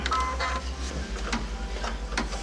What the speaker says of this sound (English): I'm going to run my final stitch out